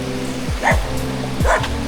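A dog barks at passing cyclists, giving two loud, close barks about a second apart.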